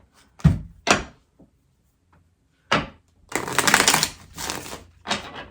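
A tarot deck being shuffled: a few crisp riffles and taps, then a longer fluttering shuffle, close by in a quiet room.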